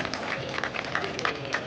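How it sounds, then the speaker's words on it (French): A crowd applauds padel players returning to the court at an FIP Silver tournament quarterfinal, with steady dense clapping alongside a voice speaking over it. "on peut les applaudir très fort"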